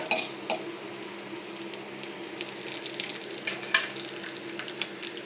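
Ingredients for upma sizzle and crackle in a hot pan, a steady close frying hiss with occasional sharp pops and stirring clinks, no voices.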